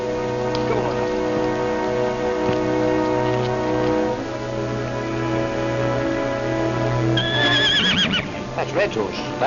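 A horse named Blazes whinnies loudly near the end, preceded by steady hoofbeats and rain under a swelling orchestral score in a 1940 World War I cavalry setting.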